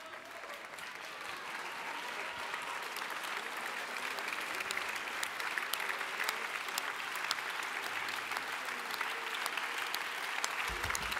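Sustained, dense applause from an audience standing at an events-industry awards ceremony, steady and loud throughout with a broad crowd wash and no break.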